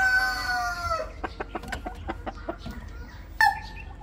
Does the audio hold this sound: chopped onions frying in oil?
no